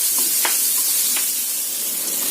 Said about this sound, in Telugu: దోసకాయ ముక్కలు కూడా కొద్దిగా 1 ఉడుకు రానిసుకొని దీంట్లో నూనెలో వేసుకుంటే ట్రాన్స్పరెంట్ గా అవుతాయి